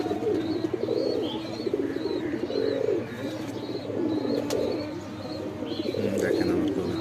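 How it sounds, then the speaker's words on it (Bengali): Several pet pigeons in a loft coo close by, layered and overlapping in soft, rolling bursts, with faint chirps above and no talking. "আর এই কুখা ডাকতেছে, কুখার ডাক সুন্দর, এসব ডাকাডাকি করছে।"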